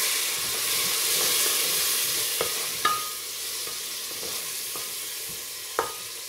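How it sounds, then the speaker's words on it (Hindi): Constant loud sizzling of tempering spices and green chillies frying in hot oil in a pan for Kadhi Pakora, with occasional sharp clinks of a spoon stirring against the pan. "मैंने एक डेढ़ मिनट के लिए इसे ऐसे लाते हुए भून लिया।"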